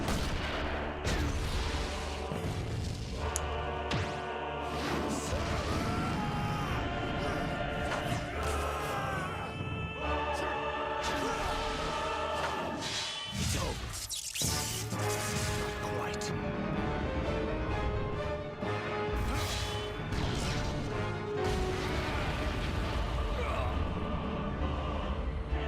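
Shooting rages in the action video game Asura's Wrath, with dense, continuous gunfire and blasts layered over a loud music score and battle noise for the whole stretch.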